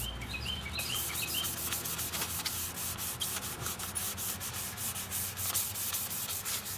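A car headlight lens being sanded aggressively by hand, a continuous close rasping rub with quick repeated strokes and faint birdsong in the background.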